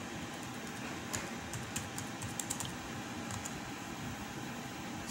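Keys on a computer keyboard are tapped in a short, scattered burst to enter a password and log in to a CCTV network video recorder, set against a steady fan-like hum, with no talking.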